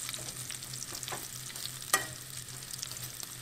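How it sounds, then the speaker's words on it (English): Bacon frying in a skillet, giving a soft steady crackling sizzle with a single sharp pop near the middle, fairly quiet and close with no voices. "so we're cooking the bacon"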